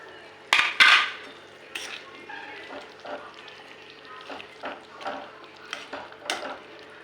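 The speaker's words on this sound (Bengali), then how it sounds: "একে একে চিংড়ি মাছগুলো ঢেলে দিলাম" Prawns drop one by one into a hot pan of oil for a Bengali chingri malai curry, giving a few sharp sizzling splashes near the start, then softer scattered sizzles and clinks of utensils against the pan.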